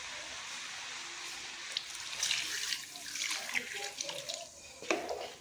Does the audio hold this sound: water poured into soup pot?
yes